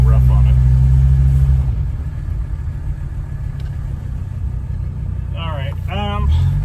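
A 1985 Mercedes 300D diesel rumbles along at close range, a steady low engine drone while someone speaks briefly over it.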